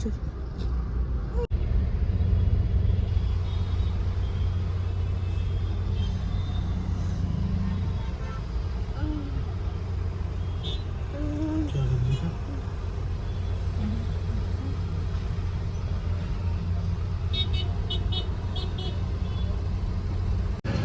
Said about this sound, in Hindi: इतना ट्रैफिक है, इतना।